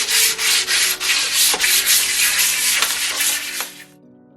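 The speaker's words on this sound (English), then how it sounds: "change your sandpaper grain. This is finer, and then just gonna sand very lightly" Fine sandpaper lightly rubs over a Dibond aluminum composite panel in steady back-and-forth strokes, a loud, close, rhythmic scratchy hiss that continues alone for about four seconds before stopping.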